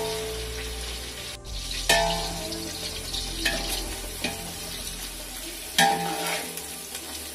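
Onions sizzling and frying in a pan for chicken biryani, a steady crackle with periodic scrapes and clinks of stirring, close and without talk.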